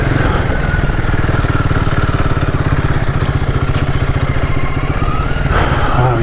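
Royal Enfield Himalayan 450 single-cylinder engine running steadily while cruising offroad, a loud continuous low thrum with a fast even pulse and mechanical clatter, no voices over it.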